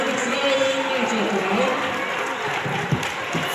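Crowd noise from a high school basketball sectional final between Mason and Lakota West, a steady roar of cheering and applause with voices talking over it.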